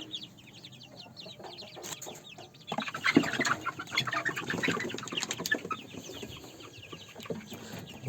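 Two-month-old Australorp chickens, young roosters and pullets, cluck and cheep in a soft, busy chorus that grows louder midway, with occasional wing flutters; no talking.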